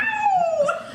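A person imitates a dog howl with a single short falling wail, close and clear, with no other sound around it.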